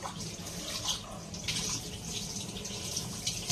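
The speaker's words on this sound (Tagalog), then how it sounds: "Hinaan mo na konti yung gripo mo." Water runs steadily from a faucet, a continuous close splashing hiss with no talking.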